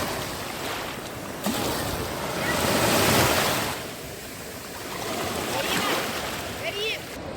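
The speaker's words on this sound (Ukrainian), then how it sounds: "Море ж... Море хвилюється." Ocean surf washing and breaking in a steady wash on an Odesa beach, mixed with wind noise on the microphone, with voices faintly present in the background.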